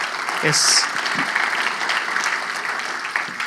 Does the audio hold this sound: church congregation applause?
yes